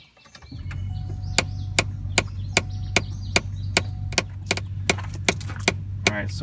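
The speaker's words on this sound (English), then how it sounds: "what you hear is that actuator right there on the top is making the noise" Faulty rear HVAC actuator in a Chevrolet Trailblazer EXT with the blower fan temporarily plugged in, giving a steady low hum under a regular series of sharp clicking ticks, about two per second, close and fairly loud.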